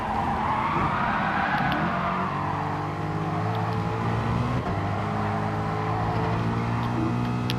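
At Brands Hatch, race car engines drone and whine through a corner while one car overtakes another, the pitch sweeping as the cars pass close by.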